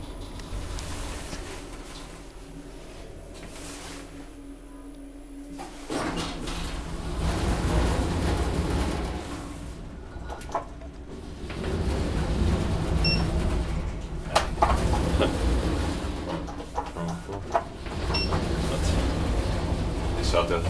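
Otis traction elevator in a hotel running between floors, a steady low mechanical hum and rumble with occasional clicks and thumps from the car and doors, fairly close and continuous throughout.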